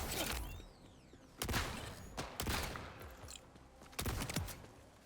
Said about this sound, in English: this guy I am going to kill with the shotgun mode